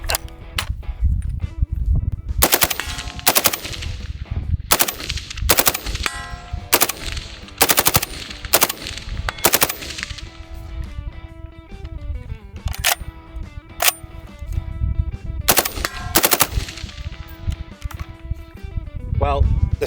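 SCAR rifle fired in repeated loud bursts and single shots at an outdoor range, sharp cracks recurring throughout with people talking between and under the shots.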